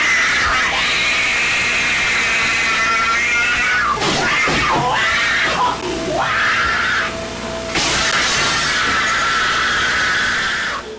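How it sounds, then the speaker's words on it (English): A man shrieks like a wild animal while destroying a room, giving loud, sustained strained screams with sliding, squealing pitch and rough groans, close and harsh throughout. "until finally he is shrieking like a wild animal and destroying the whole room."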